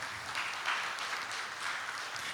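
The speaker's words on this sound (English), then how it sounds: "Please give them a round of applause." Applause from an audience at a Sri Lankan exporters' event, a steady wash of distant clapping lasting a couple of seconds at moderate level.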